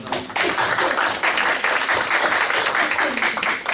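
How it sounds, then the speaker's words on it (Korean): Loud, dense applause fills a lecture hall during an awards ceremony, many hands clapping in a continuous roar that starts abruptly after a brief pause and holds steady throughout, with some crowd noise mixed in. "자, 박수 한번 부탁드리겠습니다."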